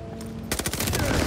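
Gunfire in the Call of Duty: Vanguard multiplayer game on the Sub Pens map, an abrupt rapid burst of automatic shots that cuts in halfway and rattles on loudly.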